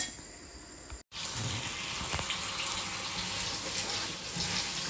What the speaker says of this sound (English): So I'm just washing some spinach to go use after, and use it afterwards in my dish.